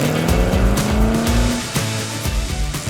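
Racing car engines scream and shift through gears as they climb a hill at a timed hill climb, with rising revs, brief drops between shifts, and a loud, close, continuous roar.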